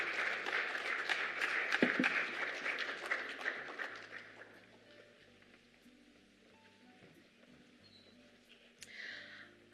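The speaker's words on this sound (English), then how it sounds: "Perhaps you just can continue the round of applause as they make their way off stage." A conference audience applauds as panelists leave the stage, dense clapping that fades out over several seconds into quiet.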